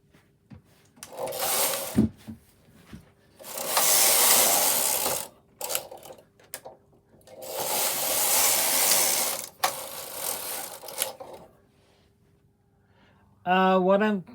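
A 1969 Knitmaster 323 knitting machine knitting rows of a jumper, each pass of the carriage a loud rattling, ratcheting sweep lasting a couple of seconds, separated by quiet pauses with small clicks and mechanical knocks.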